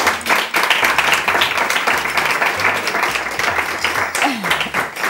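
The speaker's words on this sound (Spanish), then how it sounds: "¿Se merece un aplauso o no?" A studio audience at a Spanish television variety show breaks into loud, sustained applause, with a low music bed and bits of voices running underneath.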